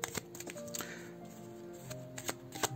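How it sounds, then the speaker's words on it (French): An oracle card deck with small, narrow cards being shuffled and drawn, giving rapid papery riffles and flicks in uneven bursts with soft slaps between them, close and with no talking. "On va se tirer une petite carte, juste pour voir"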